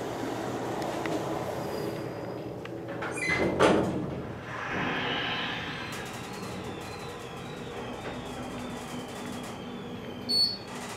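A 2003 KONE hydraulic elevator in a parking building runs with a steady low mechanical hum and rumble, broken by a brief clunk of doors and a faint high tone near the end, with no talking.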